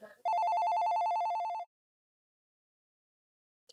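A single electronic telephone ring, a steady warbling trill lasting over a second, sounds alone in a quiet room, followed by silence and a faint click.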